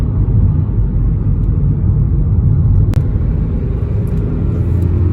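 A car engine pulling in third gear, a steady loud low rumble with road and wind noise, with no voices over it.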